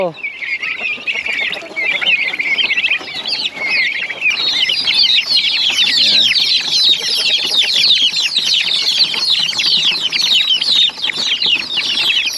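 A dense chorus of high, insistent peeping from many hungry turkey poults continues without pause, close by and loud, with occasional wing flutters.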